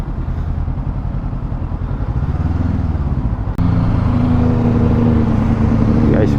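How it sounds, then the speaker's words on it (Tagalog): A Honda CB500X twin-cylinder motorcycle engine runs steadily, with a louder note as revs rise partway through. The engine is close and continuous, with people talking over it. "Dinig nyo guys, so twin cylinder to."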